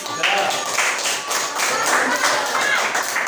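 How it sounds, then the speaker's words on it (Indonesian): Classmates clap for group 3 in a school art lesson on sculpture, a steady patter of many hands that runs loudly and evenly throughout. "tepuk tangan untuk kelompok 3"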